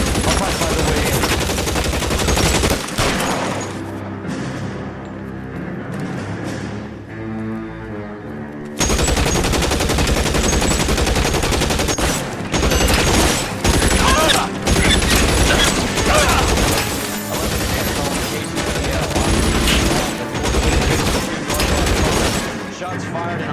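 Gunfire in the video game L.A. Noire: loud, dense bursts of shots and rapid volleys crackle through most of the clip, with a short quieter gap partway through, mixed with game sound.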